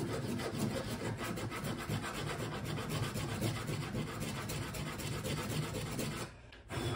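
A file rasps steadily along the edge of a new pickguard for a vintage acoustic guitar, a close, continuous gritty scraping that runs unbroken for several seconds before a brief pause near the end.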